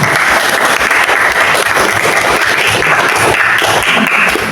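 Eighth-grade students clap together in a school classroom, a loud, dense burst of many hands that holds steady throughout.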